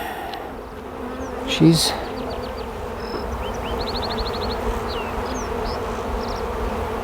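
Honey bees hum steadily around a queen at a hive during queen grafting, a low continuous drone with a brief voice speaking and faint bird chirps in the background.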